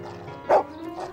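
A single short dog bark pops out near the middle, moderately loud and close, against soft background music in a children's cartoon setting.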